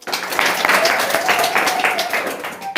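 A church congregation claps together in a steady, fairly loud burst of applause that continues throughout, with voices mixed in.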